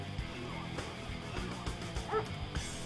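Attack dogs in the Red Alert 3 strategy game bark and yip several times in quick bursts, fairly faint beneath game sound effects and clutter.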